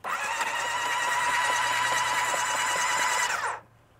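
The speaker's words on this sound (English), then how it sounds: "Engine cranks over." A steady, buzzing engine of a 37-year-old motorcycle cranks continuously and a little slowly for about three and a half seconds, loud and close, then cuts off abruptly into near silence.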